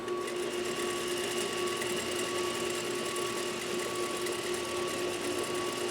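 Juki DDL 8300N industrial sewing machine running steadily at constant speed, a continuous close whirring hum with a fixed tone and no voices.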